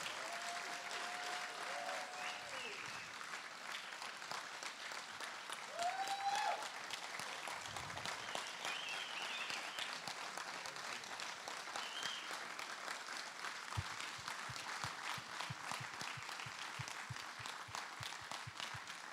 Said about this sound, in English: So a round of applause, please, for Steve.